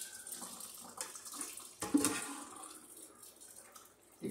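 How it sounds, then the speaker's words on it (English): Mashed homemade watermelon juice poured into a container for wine making, a soft steady liquid trickle with a louder splashing gush partway through. "I'm going to just bring it up here and pour it in."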